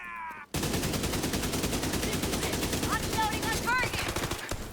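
AK rifle fire in a video game rattles in a long, fast, steady automatic stream that runs nearly unbroken after a short gap at the start, with brief electronic chirps layered over the later shots.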